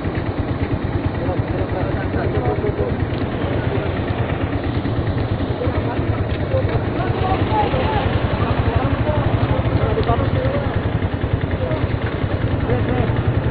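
A motorcycle engine runs steadily and close, with a dense low rhythmic throb and constant rumble throughout, on a Christmas Day ride near Marilaque; no clear talk over it.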